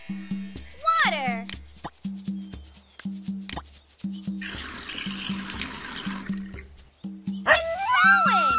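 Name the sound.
water pouring on plants in Dora video game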